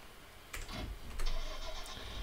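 Tractor engine starting in a farming video game, a starter click and crank rising into a steady mid-pitched running engine that grows slightly louder, heard alone.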